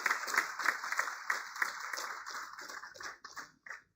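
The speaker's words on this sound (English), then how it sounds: "Can we give them a big round of applause" An audience at the concluding session of a competition breaks into a round of applause, the individual claps crisp and close, steady at first, then thinning and tapering off into scattered final claps.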